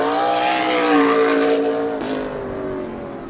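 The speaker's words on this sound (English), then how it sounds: "This is the number 55 car that Dexter drove" The number 55 race car at Midvale Speedway roars loudly past up close, its engine note high and sustained, then dropping in pitch as it moves away.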